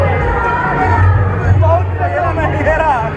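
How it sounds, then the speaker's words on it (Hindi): A dense crowd of devotees at a Narsingh Jayanti festival in Jaipur's Tripolia area, rushing along in a queue, fills the air with continuous babble and chatter, with overlapping voices close by and a low rumble underneath. "ये देखो लोग कतार में लगे हैं और भीड़ देखिए कैसे भाग रही है।"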